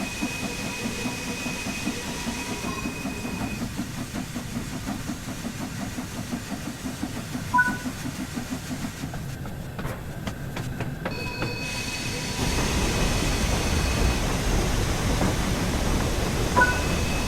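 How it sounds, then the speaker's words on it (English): LMS Stanier Class 8F steam locomotive in the Train Sim World video game starting to move, giving a steady rhythmic chuffing and rolling rumble that grows fuller and louder in the last few seconds. "Now that the locomotive is moving, you can open the regulator some more."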